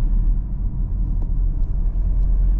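A 2022 Kia Sorento 2.2 diesel accelerating on a test drive gives a steady, low engine rumble with road noise, heard continuously from inside the cabin with no voices.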